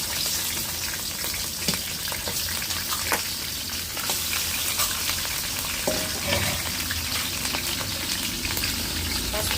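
Gongura chicken pickle cooking in mildly hot oil makes a steady, fairly loud frying sizzle that runs throughout, with occasional stirring clicks and no speech.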